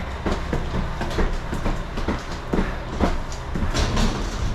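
A train in rural Japan rumbles steadily close by, with a regular clickety-clack of wheels over rail joints running through the whole stretch and no voices.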